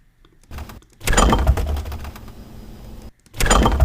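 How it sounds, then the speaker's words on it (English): An audio sample of a drawer opening: a scraping, rattling slide in two loud bursts separated by short gaps, close and dry, with faint clicks before it and no voices. "That's the drawer opening, I think."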